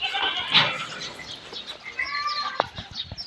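Goats on a farm bleat now and then, close and distinct, over faint background rustle and a few bird-like chirps.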